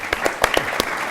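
Audience applause at a Phoenix dialogue on global trade comes as a brief burst of scattered hand claps, a handful of distinct claps over room noise, fairly close and short-lived.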